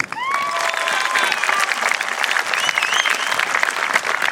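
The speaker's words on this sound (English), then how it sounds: "Please join me in congratulating these students with a round of applause." A crowd claps at a high school graduation ceremony, giving steady sustained applause for students standing to be recognized. Faint cheers and whistles rise over the clapping early on.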